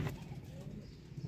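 Sialkoti rooftop pigeons coo softly in low, repeated throaty pulses, faint and close, with a voice talking alongside them.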